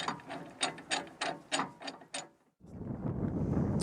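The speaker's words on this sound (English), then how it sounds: "What you see here is an actual high-lift jack engaging the lifting point on AEV's bumper" A high-lift jack ratchets against the lifting point of an AEV rear bumper on a Jeep JK, giving a run of about eight evenly spaced metallic clicks close to the microphone, followed by a stretch of wind-like rushing noise.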